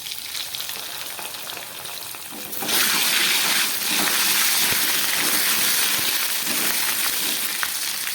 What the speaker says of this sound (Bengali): আলুগুলোকে আমি একটু ভেজে নিচ্ছি।